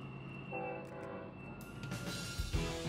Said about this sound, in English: An Alliance Texas-bound intermodal train passes through Warren.